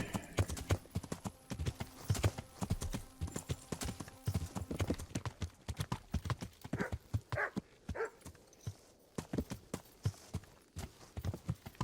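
A horse's hooves clip-clop in a steady rhythmic gait while riding in Kingdom Come Deliverance, close and prominent throughout, with a few faint background barks.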